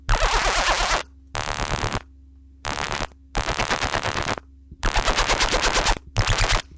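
A loud, gritty dubstep bass synth made in Native Instruments Massive, with an LFO producing rapid vibrato wobble, blasts in repeated bursts separated by short gaps of near-silence.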